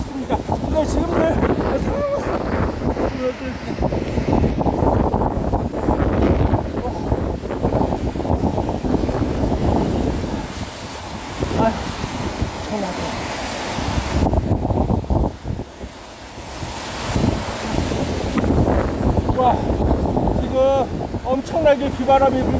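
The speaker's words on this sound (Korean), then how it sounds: "엄청나게 비바람이 불고 있습니다." Typhoon Maysak's wind and driving rain lash the front of Jeju Airport, loud gusting roar buffeting the microphone with a reporter talking over it almost continuously.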